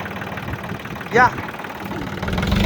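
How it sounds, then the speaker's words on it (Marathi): A John Deere tractor engine idles with a low, steady rumble that swells slightly toward the end, while a brief vocal sound cuts in near the middle. "हा जॉन डीवर आहे हा ट्रॅक्टर"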